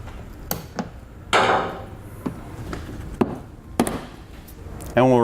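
A push pin is pried and popped out on a 2014 Honda CR-V front end during base plate installation, a series of sharp close clicks and knocks with a brief rustle.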